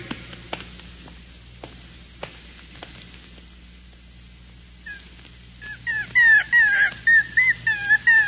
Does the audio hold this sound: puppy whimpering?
yes